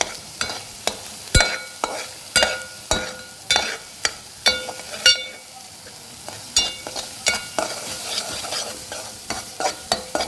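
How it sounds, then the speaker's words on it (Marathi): Spice masala with turmeric and garam masala is stirred and roasted in a hot pan for a spicy rassa, with brisk, regular scraping strokes over a constant sizzle, close and fairly loud, with no speech. "मसाले व्यवस्थित भाजून घ्यायचे परतून घ्यायचे"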